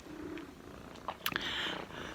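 A needy cat purrs softly while being stroked on a cold December day, a low steady rumble close by with a few brief rustling touches partway through.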